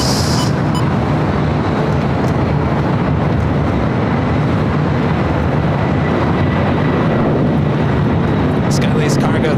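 At LAX, a cargo jet rolls down runway 25 left with a dense, constant broadband roar. The roar stays at an even level the whole time, with voices talking faintly beneath it.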